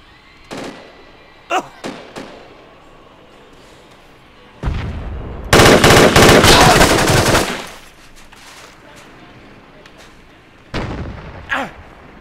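Gunfire in the Project Reality Fallujah counter-insurgency map: scattered single shots, then a loud, sustained burst of rapid automatic fire lasting a few seconds, followed by more isolated shots.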